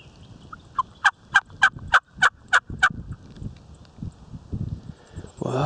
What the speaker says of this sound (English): finally start hearing a bird gobble